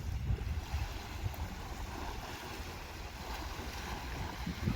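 Gentle waves lapping on the sand beach of Lake Yellowstone, a steady low wash with light wind noise, faint and continuous with no talking.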